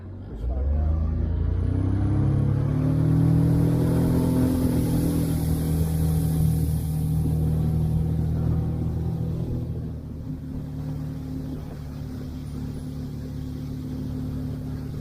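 A speedboat engine drones low and steady nearby on backwaters at Thanneermukkom Bund, rising briefly then easing off into a softer rumble with water noise.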